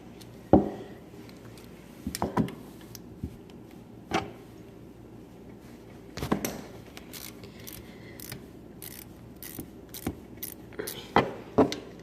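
A wrench on a bolt of a 2013 Honda Rancher ATV makes faint, sporadic metallic clinks and taps spread across a quiet stretch.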